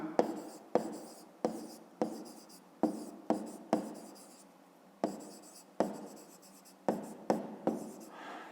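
Chalk or pen writing out the formula for a rectangle's perimeter during a 5th-grade maths exercise: a dozen or so sharp, close tapping strokes in uneven bursts, separated by brief pauses, with no talk.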